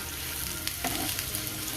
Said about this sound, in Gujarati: એક પેનમાં આપણે એક ચમચી ઓઇલ લઈ લીધું છે અને એમાં આપણે આ સોયાબીન એક વખત ફ્રાય કરી લઈશું